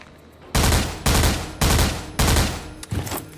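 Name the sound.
gunshots in a shooter video game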